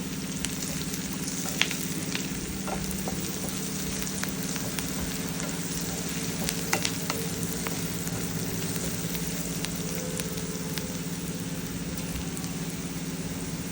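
Steady sizzling of netthallu (dried fish) and broad beans curry frying in a pan after a pinch of turmeric goes in, with a continuous close hiss broken by occasional faint scrapes and clicks of stirring.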